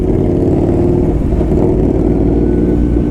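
A Suzuki GSR motorcycle and a Kawasaki Versys 1000 SE are ridden together, with a loud, steady engine drone and heavy wind rumble throughout.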